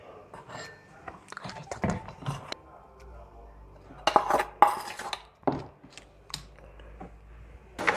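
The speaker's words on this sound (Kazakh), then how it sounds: "Достар, мен тағы да араластырып жатырмын." A utensil clinks and scrapes against a bowl as pancake batter is stirred, with irregular knocks and taps at close range and a person speaking between them.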